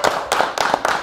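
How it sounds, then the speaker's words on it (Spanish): Audience applause at a sports team's anniversary celebration, a short burst of clapping with a few distinct sharp claps standing out. "¡Un aplauso!"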